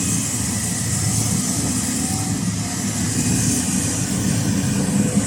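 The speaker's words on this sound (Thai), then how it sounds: "เสียงเครื่องยนต์แบบอนุกรมนะ เครื่องยนต์เปอร์กินครับ" Perkins CAT C4.4 4.4-litre 175 hp diesel engine running in a CAT 323GX excavator, a steady, loud, continuous idle drone with even mechanical rumble and no talk.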